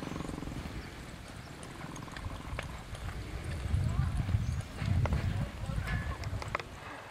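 Horses' hooves clip-clop at a steady walking pace as a cowgirl drill team rides in formation, the hoofbeats fairly close and growing louder midway, with a rider's voice talking over them.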